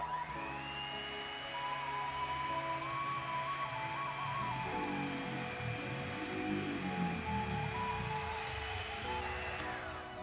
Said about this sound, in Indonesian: Lalu mixer hingga mengembang.